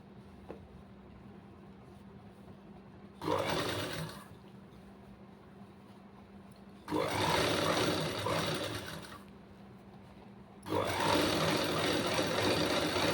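An overlock-style computer stitching machine sews a garment neck piece in three loud, steady bursts of running stitches, separated by quieter pauses with a low background hum.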